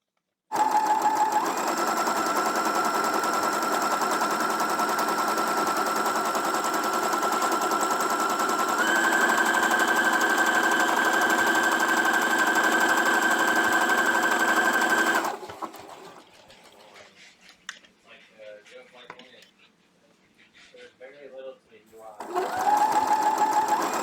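Sewing machine stitching a hooded towel, a loud close rapid motor whir with steady stitching rhythm and a pitch shift midway, then stopping for quieter handling noises before starting again; speech is present.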